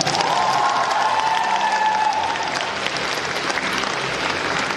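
An audience at an awards ceremony breaks into a full, steady round of applause mixed with some cheering, a dense clapping wash lasting several seconds.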